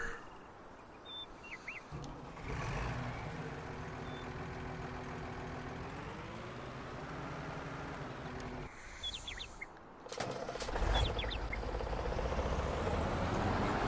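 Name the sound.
truck engine and reversing beeps in a PS4 video game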